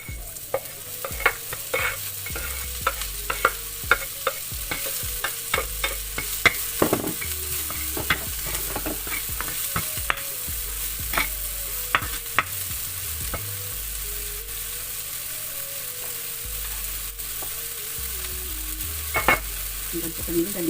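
Onions frying in a hot pan for nasi goreng, a steady loud sizzle broken by frequent scraping, knocking strokes of a spatula stirring them, close up with no voices.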